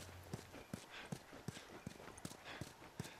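Horse hooves clip-clop in a steady walking rhythm in The Last of Us, evenly spaced hollow knocks over a low ambient game bed with no voices.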